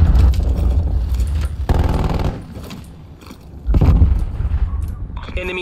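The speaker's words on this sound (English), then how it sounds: "Cruise missile inbound." A cruise missile blast in the Call of Duty Cold War map Garrison hits as loud, heavy booms with rumbling fallout over ongoing gunfire, fading briefly before another strong burst near the end; voices talk over parts of it.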